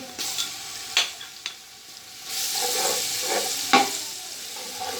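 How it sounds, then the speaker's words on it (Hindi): Garlic ginger paste sizzling in a hot pan, with a spoon scraping and clicking as it is stirred, close by and with no talking. "अब हम इसमें लहसुन अदरक का पेस्ट ऐड करेंगे।"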